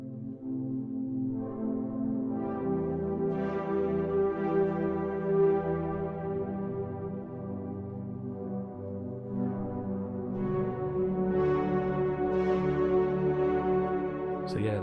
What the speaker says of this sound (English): I just found this preset, which is called Deep Space Diva